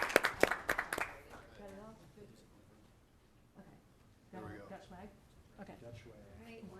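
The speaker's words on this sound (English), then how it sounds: "Round of applause, because it's a lot of work to be a board member." Audience at a city council meeting breaking into a short, loud burst of sharp claps that fades within about a second, followed by a person talking.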